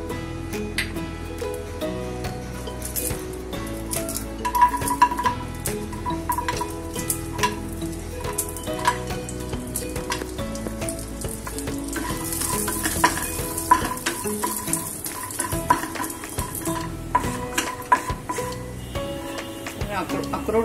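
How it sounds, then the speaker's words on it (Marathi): Walnuts roast in a little ghee in a pan for a dry-fruit laddu, a steady frying sizzle with scraping stirs and occasional clinks of utensil against metal, continuous and close, with no voices. "अगदी थोडंसं तूप टाकते. आपल्याला अक्रोड परतून घ्यायचे."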